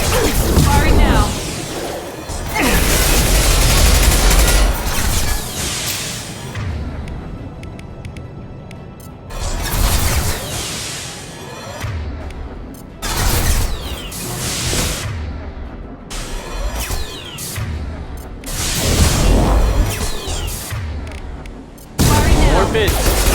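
Weapons fire in Mass Effect 2 crackles in loud, heavy bursts, with several long volleys of rapid shots separated by brief lulls and punctuated by booming impacts.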